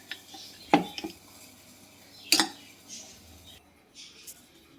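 Curry leaf, tamarind and jaggery paste being stirred into a bowl for a curry leaf powder chutney, with two sharp clinks of a utensil against the bowl and quieter scraping and mixing in between.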